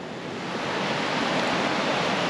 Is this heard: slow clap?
no